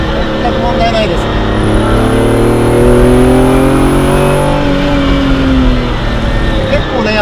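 A Ferrari Dino 246 GT accelerating hard, its engine note climbing steadily in pitch through a long pull, loud and close from inside the car with a driver talking over it.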